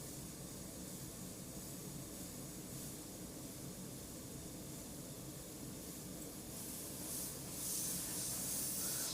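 An airbrush sprays blue paint in a soft, steady hiss of air that runs continuously and quietly, growing slightly stronger toward the end.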